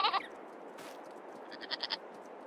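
Goats bleat in Farming Simulator 22, a short harmonic cry at the start, then a few quicker, fainter bleats near the end of the short clip over a quiet background.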